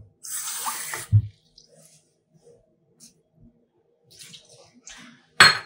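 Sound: water being poured onto seasoned lamb shoulder

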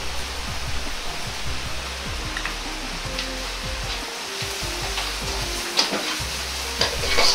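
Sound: stir-frying doubanjiang chili bean paste in oil

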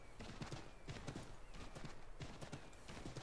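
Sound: horse hooves clip-clop in a video game

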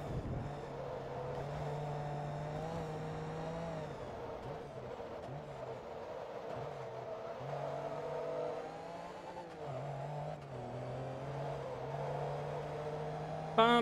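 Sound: race car engine in video game Forza Motorsport 2

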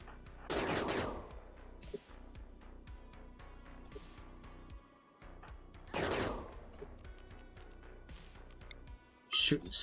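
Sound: gunfire in the video game RimWorld

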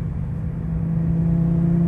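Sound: Porsche GT3 RS engine roar

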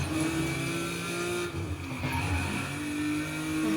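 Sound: modified car racing in video game Need for Speed

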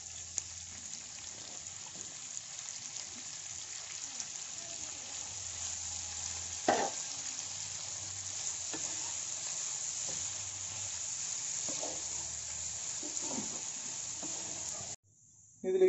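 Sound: green chilies sautéing in a pan for squid roast

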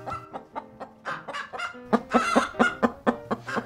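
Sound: chicken clucking

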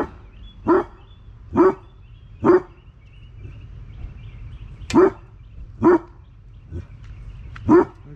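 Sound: dog barking

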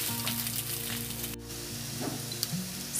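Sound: stirring chilli chicken with spring onion in pan

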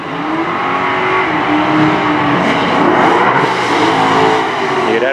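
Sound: twin-turbo Mustang drag racing AMX Javelin

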